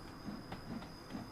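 Freight train running at night in Train Sim World 2, from Mold Junction to Edge Hill, with a steady rumble and evenly spaced rail clicks about every half second, alone without talk.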